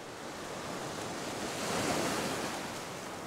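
Ocean waves break on a Sydney beach, a dense, steady roar of surf that swells slightly in the middle and stays loud and even throughout, with wind noise and no voices.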